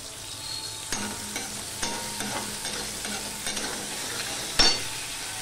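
Tempering spices frying in a pan on a low gas flame for a vegetarian snake gourd dish give a soft, steady sizzle, broken by several spoon scrapes and clicks against the pan, with one louder knock near the end.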